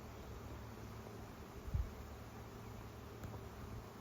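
A honey bee swarm moves into a homemade swarm trap outdoors near woods in early April. It makes a faint, steady buzzing hum against a soft background hiss, with one brief low thump partway through.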